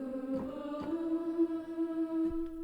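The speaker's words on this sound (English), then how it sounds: "The second preset we're using is also from Omnisphere, which is the Boys Choir Ooze" Omnisphere synth preset Boys Choir Ooze holds a soft, airy choir-like note, with a brief pitch step early on, quiet and unaccompanied.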